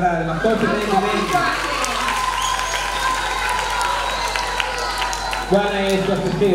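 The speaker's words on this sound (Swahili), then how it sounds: "makofi tafadhali, makofi mengi" Audience at a church singing festival for children and youth applauding: sustained clapping from a crowd, with talking or singing voices at the start and again near the end.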